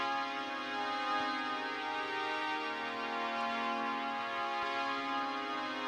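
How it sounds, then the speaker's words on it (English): A sustained synth pad from the breakdown of the club track plays alone: a held, rich harmonic chord with a smooth, even level and gentle movement throughout. "we go to this little breakdown part, which kind of sounds like this with this pad."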